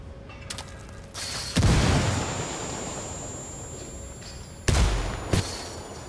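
Explosions and gunfire in the video game Ghost Recon Wildlands: a loud blast, then a decaying rumble and another sharp burst with a couple of quick hits, over faint mechanical clicks.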